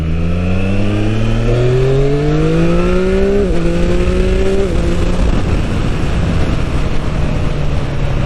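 A loud Triumph Street Triple Moto2 motorcycle engine revs up through several rising gear pulls, pitch climbing and dropping between shifts, steady and close with no talking.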